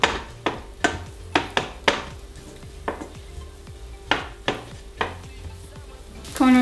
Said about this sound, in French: Donc je refais revenir l'ail et l'oignon dedans.